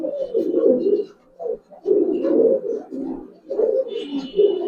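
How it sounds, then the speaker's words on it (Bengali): Giribaz pigeons coo in a series of low, throaty rolling phrases, close and moderately loud, with brief pauses between the calls. "এগুলো উড়তি কবুতর, কখনো জোড়া দেওয়া হয় নাই"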